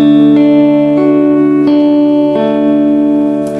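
Guitar notes plucked on the second and third strings, a few ringing notes joined in a smooth repeating phrase, steady and fairly loud with a processed, effect-laden tone.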